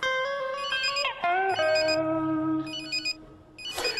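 Electronic phone ringtone playing a repeating melodic tone pattern, fairly clear and alone, with pitch sweeps and a brief harsh burst near the end.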